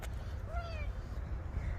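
A cat in a garden gives one short, rising-falling meow over a steady low rumble of outdoor background noise.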